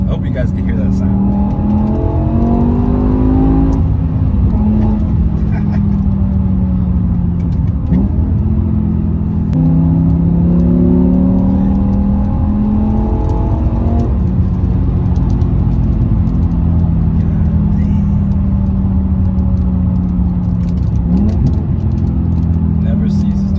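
BMW M6 V10 coupe accelerating hard under full throttle, its engine note rising through repeated climbs and gear changes, a loud, continuous rumble with steady road noise beneath.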